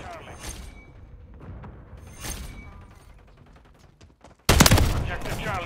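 Gunfire in a Call of Duty match: scattered single shots and short bursts, then a sudden loud sustained volley near the end, with shouted voices in between.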